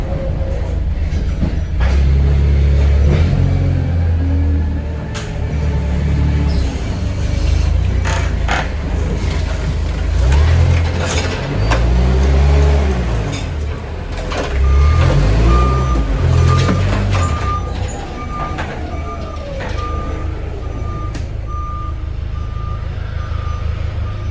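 Forklift with a scissor attachment loading potato pallets in Idaho, engine rumbling and revving in waves while a steady reversing beeper sounds, with clanks and rattles of pallets, no talk.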